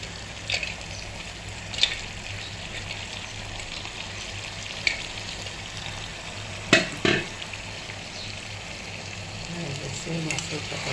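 Fish belly simmering in a pan with eggplant and potato, a quiet steady sizzle with a few stirring clinks and knocks.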